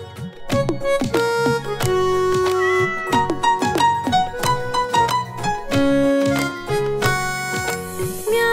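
Sung Hindi children's rhyme about a cat, with a voice imitating repeated meows over a steady, bright musical backing with rhythmic accompaniment throughout.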